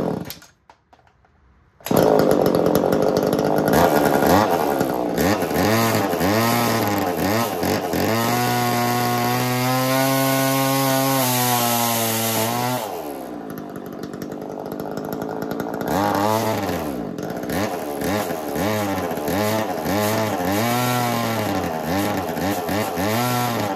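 A chainsaw fitted with a 1980s Versa Tools drill attachment and a drill bit starts up and runs, a loud, close two-stroke buzz that revs high, holds, drops back to idle and revs again, with no talk.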